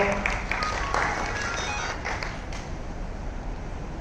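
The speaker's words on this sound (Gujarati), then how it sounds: "આપ સૌ તાળીઓથી વધાવશો." An audience applauds during an award and honours ceremony at an all-India NGO federation convention, a steady crowd clapping that carries evenly through the whole stretch with a few sharper claps standing out near the start.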